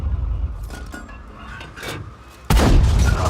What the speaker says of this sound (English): I think it's a bit of counter artillery fire that's coming in there